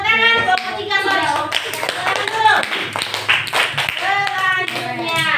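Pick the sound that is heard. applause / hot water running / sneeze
applause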